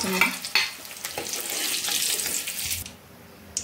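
Dried fish fries in a pan with a light crackling sizzle and a few utensil clinks, alongside running tap water, before the sound drops away near the end.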